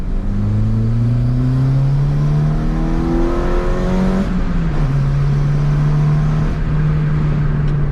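A Renault Clio 2 1.6 16v with the catalytic converter removed from the exhaust accelerates hard, its engine note climbing through a loud rising rev, briefly dropping at a gear change, then holding a steady drone up close.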